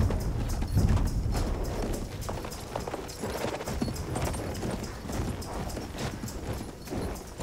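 Horse hooves gallop in a rapid, steady clip-clop rhythm in the World War I shooter game Battlefield 1, close and continuous amid game ambience.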